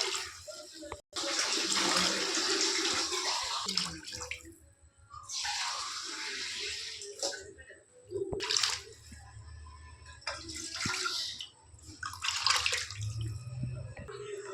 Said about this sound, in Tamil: அரிசி எடுத்த டம்ளரில் 6 டம்ளர் தண்ணி ஊற்றிக்கலாம்